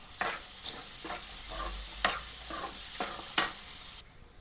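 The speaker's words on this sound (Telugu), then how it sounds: "ఇప్పుడు అల్లం పేస్ట్ ఇప్పుడు మళ్ళీ కలుపుకోవాలి" Ginger paste being stirred into a frying ridge gourd and meat curry, with soft rhythmic scraping strokes of a spoon in the pan over a quiet, steady sizzle, close by and with no voices.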